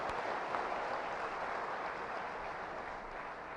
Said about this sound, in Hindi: तालियां बजा के स्वागत करें